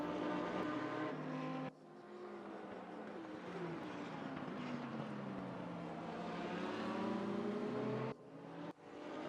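Several race car engines roar together in a racing video game at Portimao, a loud sustained howl with shifting pitch as cars drag race down the front straight, including an Audi and Ferraris, with brief gear-change dips.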